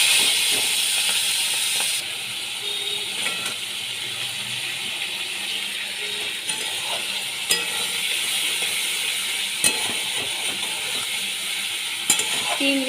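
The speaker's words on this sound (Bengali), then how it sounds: "চিংড়ি মাছগুলো এবার ভেজে নেবো" Prawns fry in oil in a pan, a loud, constant, close sizzle and hiss lasting throughout, with occasional brief clinks of a stirring utensil and no speech.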